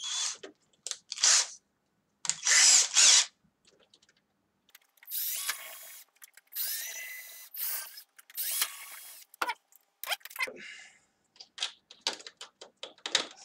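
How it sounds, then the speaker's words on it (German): A 3 mm drill bit bores through the frame of a Bruder MAN TGS model truck in short, whining bursts that start and stop repeatedly, close by, with scattered clicks and handling noise between. "bohre mit einem Dreierbohrer hier einmal durch"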